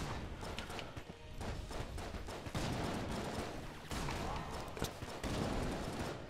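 Gunfire rattles in the video game Enter the Gungeon, dense rapid shots layered with game effects and clatter, continuous and fairly busy at moderate volume.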